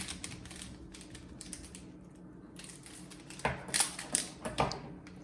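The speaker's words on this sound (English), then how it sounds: "Snip off the tag." Scissors snip through a tea bag tag in a series of short, crisp cuts, several sharp clicks close to the microphone over a quiet room background.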